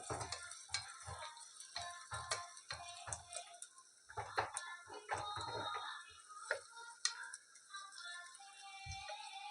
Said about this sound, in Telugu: ఉల్లిపాయలు వేగేదాకా కొద్దిగా వెయిట్ చేద్దాం